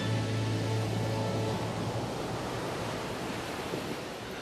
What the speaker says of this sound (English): The only sound they could hear was water, blue, blue water, as far as they could see.